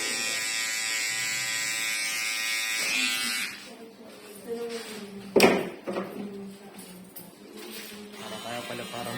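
An electric hair clipper buzzes close by while cutting hair for a bob, steady at first and then stopping and restarting in short bursts, with people talking over and between the runs.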